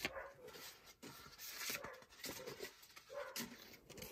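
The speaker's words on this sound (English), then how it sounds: "my dogs are gonna bark" Several dogs bark in the background of an indoor crafting session, sharp intermittent yaps and bow-wows repeating across the moment, moderately near and fairly loud, with no talk over them.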